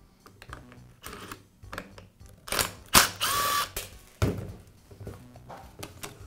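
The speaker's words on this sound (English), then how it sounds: "I'll begin by removing the rear housing from the grinder." Rear housing coming off a Makita angle grinder: close plastic clicks and clunks as parts are handled, with a louder snap and scrape partway through, then quieter fumbling, and no talking.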